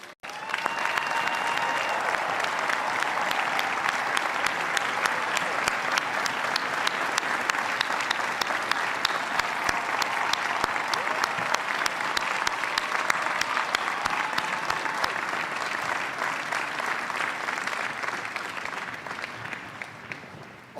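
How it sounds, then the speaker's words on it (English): Sustained applause from a large audience at a university commencement ceremony, steady dense clapping holding level for about twenty seconds before tapering slightly at the end, with no voices over it. "give them one final round of applause"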